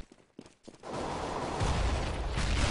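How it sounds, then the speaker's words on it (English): Sustained gunfire erupts in a 2013 Counter-Strike match after a few scattered shots, building into a dense, continuous barrage that grows louder toward the end. "So gunfire is coming out from both sides."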